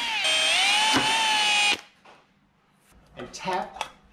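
A small 2.5mm drill whines at a high pitch through brass for a couple of seconds, then cuts off, followed by a few light metallic clicks and handling noises.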